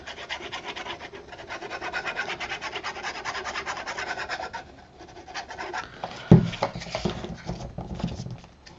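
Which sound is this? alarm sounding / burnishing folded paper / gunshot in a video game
burnishing folded paper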